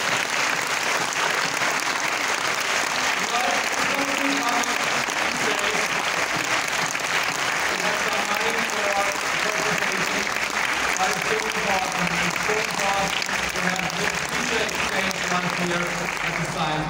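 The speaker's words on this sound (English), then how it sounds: "let them hear our clapping" Sustained applause from an audience at a science education award ceremony, thanking supporters; dense, steady clapping fills the whole stretch at an even level, with voices mixed faintly into the crowd noise.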